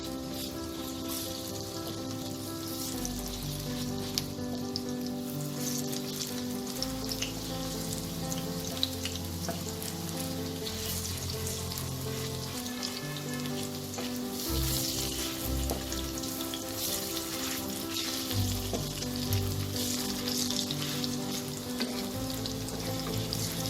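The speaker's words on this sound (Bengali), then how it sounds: "কোফতাগুলো এক পিঠ ভাজা হয়ে গেছে, আমি এবার এগুলো উল্টে দেবো।" Roasted-eggplant kofta balls fry in hot oil, a continuous bubbling sizzle with occasional stirring and utensil scrapes, fairly close and steady, no talking.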